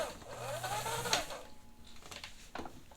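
A vintage Necchi sewing machine back-tacks, giving a steady mechanical whir and hum with a sharp click partway through and a few knocks toward the end, at moderate, close range.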